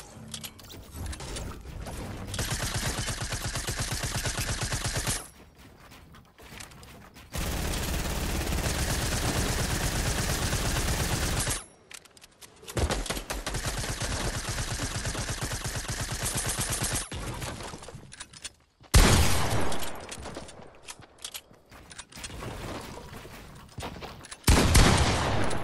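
Fortnite gunfire rattles in long, loud bursts of automatic fire broken by short silent gaps, with sharper single shots and a final quick volley near the end.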